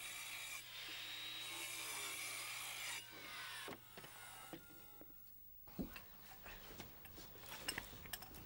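A wooden floorboard is cut by hand around pipes, with close, rasping saw strokes followed by a series of scattered knocks and scrapes of wood.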